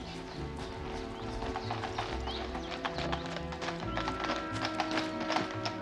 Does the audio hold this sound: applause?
no